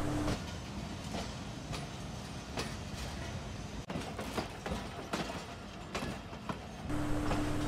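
A passenger train running into Lahore, rumbling steadily with rhythmic clickety-clack wheel beats over the rail joints and occasional sharp metallic clanks, heard from on board at moderate volume.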